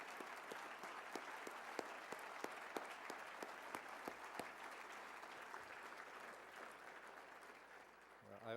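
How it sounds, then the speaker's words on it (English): Applause from a gala audience at the 2011 Mitchell Institute event, distinct claps standing out over a soft, steady wash of clapping, faint and fairly distant. "get a round of applause"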